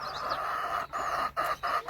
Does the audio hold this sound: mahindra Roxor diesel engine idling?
no